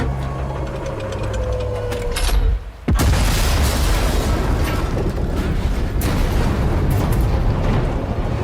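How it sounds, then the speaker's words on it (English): An artillery gun in the video game Sniper Elite 5 explodes as it is fired. A sharp, heavy blast follows a brief quiet and gives way to a long, loud, rumbling roar of fire and debris. "The gun will blow when it's fired."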